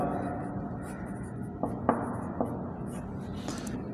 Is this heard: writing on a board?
yes